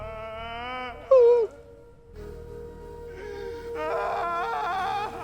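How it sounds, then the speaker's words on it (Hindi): A woman cries in long, wavering wails and moans, one sharp loud sob rising early, then quieter drawn-out whimpering tones in a quiet setting. "अभी किसी औरत के रोने की आवाज सुनाई दे रही है"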